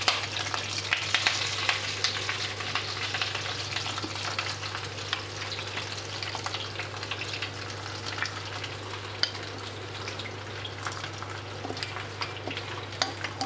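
Marinated chicken pieces sizzle and fry in a pan over a lowered gas flame for Bengali lonka pora murgi, a steady close crackle with light stirring scrapes and a low constant hum beneath, no talking.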